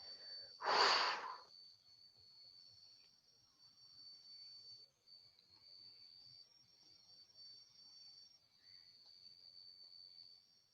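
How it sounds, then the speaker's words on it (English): One forceful breath is pushed out through the nose during a pranayama exercise, a sharp close snort-like exhalation near the start. Quiet room hiss and a steady high insect-like tone follow. "Blow out all your breath."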